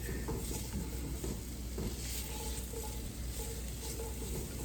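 Oxtails browning in a pan over medium heat, a continuous close sizzle and crackle with occasional stirring scrapes and no voices.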